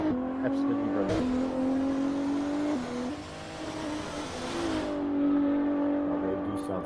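Race cars at the SRA Race of Champions accelerate hard through short gear ratios, their engines climbing in pitch with quick upshifts and a near, loud rasp, while a commentator talks over them.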